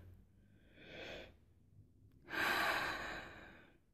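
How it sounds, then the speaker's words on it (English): Two slow, deep breaths close to the listener, a softer inhale followed by a longer, fuller exhale, in a quiet room with no talking. "Take some deep breaths."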